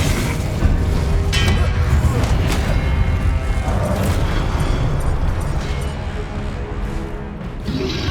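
Spell effects from the Hogwarts Legacy video game, such as fire and disarming spells, make dense continuous booms, bursts and crackling blasts that stay loud for the whole stretch.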